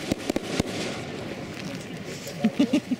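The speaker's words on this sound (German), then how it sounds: "Blackbox Kanonenschläge." Several sharp Blackboxx firecracker bangs, two close together at the start and another at about half a second, followed by a steady crackle and a few quick pops near the end.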